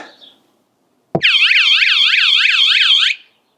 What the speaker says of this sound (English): then the alarm will sound for a lot longer